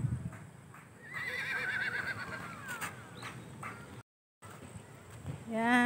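Horses at a riding area on an overlook in San Mateo, Rizal whinny loudly and close by, once long and again briefly at the end, with hoof clops in between.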